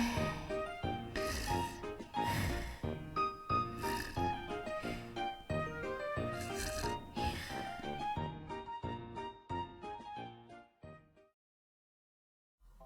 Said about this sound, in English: snoring softly